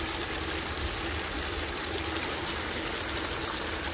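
Shallow water, about half to three quarters of an inch deep, runs over a river dredge site, giving a steady, even broadband rush that holds unchanged throughout without any talk.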